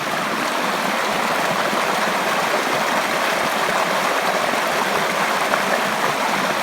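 Heavy rainwater pours over a garden waterfall behind tree ferns, a loud, steady broadband rush of falling water with no pauses.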